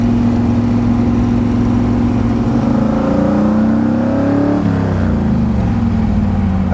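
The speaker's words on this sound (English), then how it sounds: "Oh yeah, sounds great." A Ford Mustang GT350 engine revs loudly, the pitch climbing and dropping as it revs and accelerates nearby.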